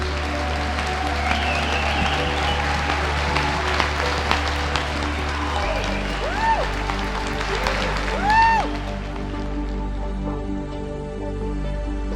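Audience at a film premiere in a theater clapping for employees, a broad steady patter of applause under a constant low hum, with a few voices and whoops rising through it.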